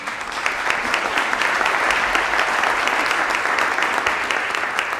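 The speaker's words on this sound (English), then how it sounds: "A round of applause for our panelists today." A conference audience gives sustained applause for a panel, a dense, loud, even clatter of many hands continuing without a break.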